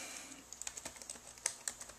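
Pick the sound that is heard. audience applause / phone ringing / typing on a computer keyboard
typing on a computer keyboard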